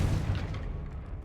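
A fire spell blast, Confringo, in the Hogwarts Legacy video game: a deep low boom that opens loud and rolls on for about a second, with a crackling fiery tail decaying underneath.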